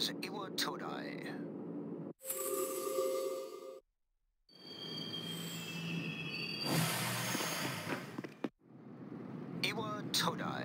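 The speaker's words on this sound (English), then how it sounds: "This is the final train bound for Tatsumi Port Island." Train from the video game Persona 3 Portable running on rails, a steady rumbling ride with squealing and whooshing, broken by a short silence, with announcement-like voices and chimes around it.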